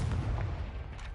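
A Confringo fire-blast spell cast in a Harry Potter video game, a brief deep whooshing boom with a low rumbling body that fades quickly, heard alone.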